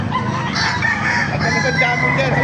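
Several large champion roosters crow loudly and continuously at a market in Baliuag, Philippines, their calls overlapping, with clucking and general farmyard noise close by.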